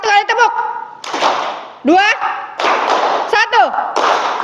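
A classroom of students claps together in a closing clap, sharp bursts of hand claps alternating with a teacher counting aloud and children's voices, loud and close in a room.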